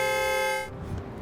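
A car horn gives a single sustained toot lasting under a second, then gives way to low road and traffic noise; no one speaks.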